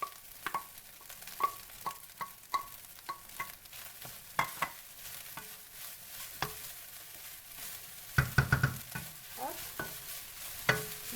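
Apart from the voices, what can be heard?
carrots and peas stir-fried on high heat for Cantonese rice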